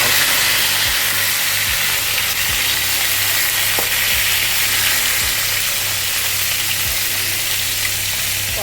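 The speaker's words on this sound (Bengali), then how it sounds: "পটলগুলো ভাজা হয়ে গেছে।" Pointed gourd (potol), lightly salted, frying in hot oil: a loud, continuous close sizzle with occasional soft knocks from stirring, no voices.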